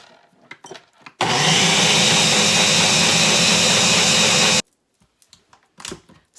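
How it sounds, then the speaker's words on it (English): A blender runs loud and steady for about three seconds, pureeing a keto ice cream mixture in a mason jar, with brief quiet handling sounds before and after. "So then we're gonna put it to the blender."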